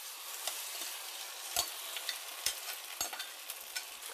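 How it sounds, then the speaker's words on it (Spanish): Potato and onion tortilla batter frying in hot oil in a non-stick pan, a steady sizzling hiss with a few sharp clicks and scrapes, close and moderately loud with no talking. "Ahora vamos a proceder a echar lo que es la masa de la tortilla."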